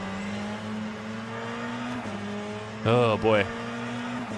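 A GT3 race car engine in Le Mans Ultimate hums steadily at a constant pitch, then briefly rises and falls as the revs shift, with a voice speaking over it.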